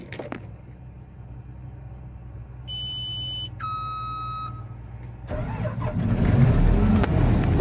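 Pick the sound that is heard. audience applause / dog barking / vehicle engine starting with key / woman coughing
vehicle engine starting with key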